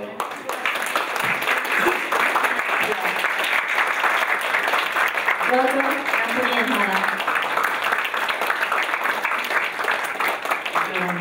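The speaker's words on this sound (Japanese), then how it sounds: "どうぞ皆さん拍手でお迎えください。" Applause from the audience welcoming guests at a film talk event, sustained dense clapping throughout with some brief voices and tones rising over it midway.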